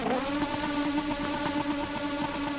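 The engine of a 1988 McLaren Honda MP4 racing car holds a steady, tonal, high-pitched whine with strong harmonics across a short burst, loud and close throughout.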